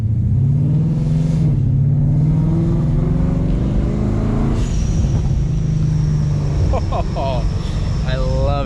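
A boosted car cruises with a loud, constant engine and exhaust drone, a shifting tone mid-clip, and a cluster of sharp crackling exhaust pops near the end, all close and continuous.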